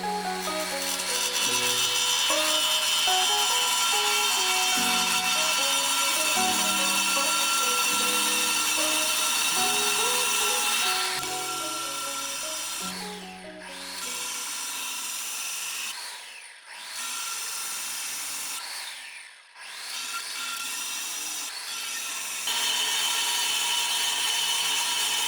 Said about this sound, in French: Je vais effectuer les découpes avec une disqueuse, équipée d'un disque diamant